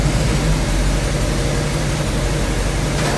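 A 1984 Chevy C10 pickup engine runs in gear with the carburetor in use, giving a steady low rumble and broadband roar that holds close and constant throughout with no voices.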